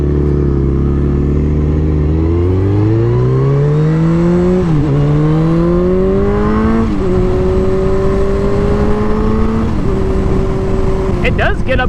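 A KTM RC390 single-cylinder motorcycle accelerates down the road, its loud, close engine note rising steadily through several gears with short dips at each shift before settling into a steady drone, with some wind noise at the end.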